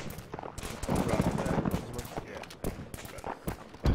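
Bursts of rapid gunfire in the Arma 3 military game on the Tanoa map, crackling in dense volleys and scattered single shots at mid distance, running under and between radio-style voices talking.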